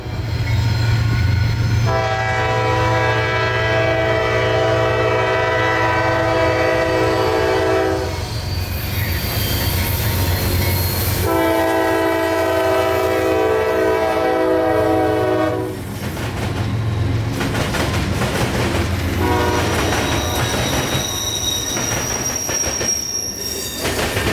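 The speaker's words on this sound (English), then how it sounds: "This one only had a couple of GEVOs and an AC-44, but it was still a cool train to catch, mostly just because it was an ethanol train." A northbound freight ethanol train hauled by GEVO and AC-44 locomotives passing close and loud, with a long sustained horn blast in two stretches, squealing wheels and steady rumbling throughout.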